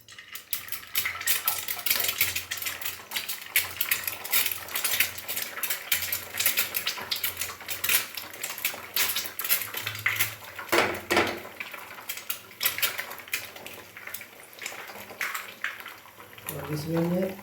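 Egg cracked onto a hot tava sizzles and crackles steadily for a single-fry omelette, a dense continuous frying hiss with scattered spits and pops, close and fairly loud throughout.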